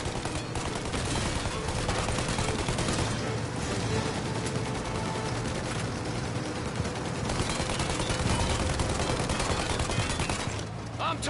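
Gunfire in the Mafia video game during a chase after a plane: dense, continuous volleys of shots and bursts layered over loud game audio and music, sustained throughout with no clear breaks.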